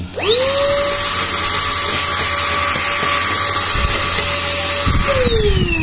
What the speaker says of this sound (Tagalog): Saglit lang at nahigop na po ng ating vacuum.